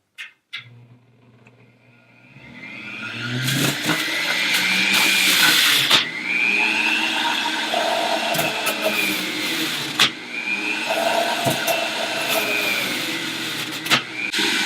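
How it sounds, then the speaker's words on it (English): A Breville 800JEXL Juice Fountain Elite juicing carrots on its high setting: the motor whirs up loudly, then a steady high-pitched grinding whine with brief dips and sharp crunches as each carrot is fed in. "It's best to put the carrots in tip up. I'll turn the machine on high."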